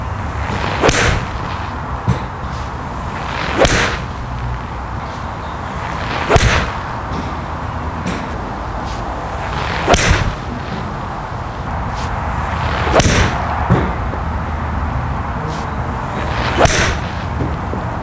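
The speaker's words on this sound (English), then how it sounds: "what you're gonna hear right now is me hitting some balls indoors, microphone on the floor" PXG 0211DC and 0311 GEN03 golf irons strike balls indoors with a microphone on the floor, giving six sharp, cracking impacts spaced a few seconds apart, each followed by a brief reverberant tail in a room.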